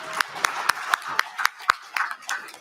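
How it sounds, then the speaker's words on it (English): An audience at a youth summit claps in a quick, fairly close patter of individual hand claps, modest in size and steady for a couple of seconds. "Let's give him another round of applause"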